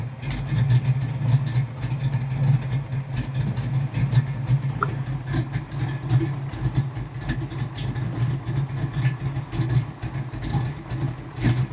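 A Ford Mustang Foxbody engine idles with a steady low rumble, loud and close, holding an even drone throughout with faint rattles on top.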